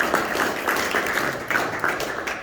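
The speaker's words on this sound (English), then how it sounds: "Let's give Bob a round of applause." An audience at a library tea party tribute claps for a Navy veteran: a short, even burst of moderate applause from a small crowd, rippling steadily.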